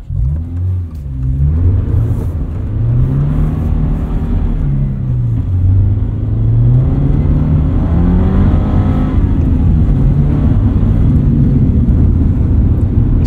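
A 2022 Subaru BRZ driving through mud with ABS engaged, its engine droning loudly with rising and falling pitch as it accelerates and slows, a continuous close rumble with no talking.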